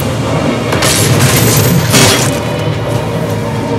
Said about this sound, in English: That's why I always keep the trusty plasma rifle out.